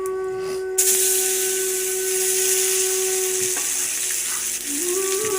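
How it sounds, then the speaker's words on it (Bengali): Tomatoes sizzle and hiss steadily in a hot frying pan with oil, a bright sustained sputter that starts abruptly after a brief quiet moment and continues close and loud throughout. "টমেটোগুলো ভেজে নেবো"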